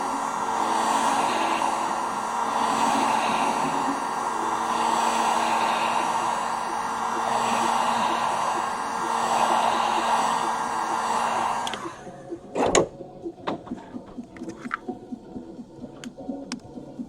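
A heat gun blows hot air to soften the edge adhesive on an iPhone 6s Plus during a battery replacement, a steady loud whooshing hum that stops abruptly near the end, followed by a few sharp clicks and handling taps.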